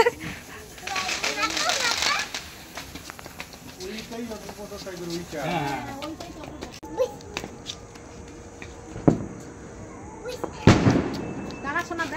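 Firecrackers set off outdoors in a Bengali home setting, with sharp bangs and crackles scattered through the clip, the loudest near the end, mixed with people talking and birds calling in the background.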